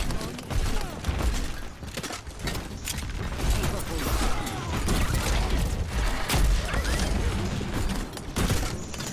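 Weapon fire from the video game Overwatch crackles in rapid, dense bursts with mechanical clatter and low booms, loud and continuous throughout, with some talk mixed in.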